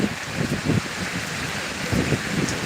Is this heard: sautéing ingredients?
no